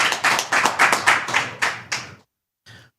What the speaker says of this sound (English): Let's clap it up for 810-KICKS23